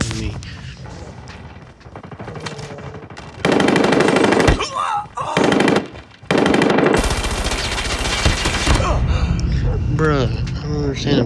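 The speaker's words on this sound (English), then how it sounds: "Man, I'm shooting him 100 times." Rapid video-game gunfire bursts loud and continuous, with sustained automatic shooting broken by short gaps, while a player talks and reacts over the shots.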